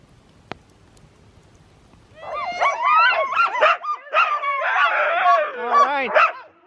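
A pack of sled huskies breaks into eager, overlapping yips, whines and barks after a short quiet, loud and close, with excited high-pitched cries continuing throughout.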